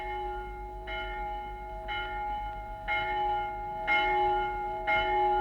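A town hall bell in a radio play tolls five times at steady one-second intervals, each strike ringing out clearly over a sustained tonal hum with no voices.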